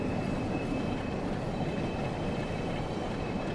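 A class 47 locomotive hauling loaded HOA wagons in the Train Sim World video game, giving a steady, rumbling rail roll with a constant hum, heard alone.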